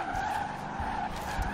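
Tires skid continuously as a car drifts in Forza Horizon 4 on a dark winter road, a sustained screeching whine over low engine rumble, steady and fairly loud throughout.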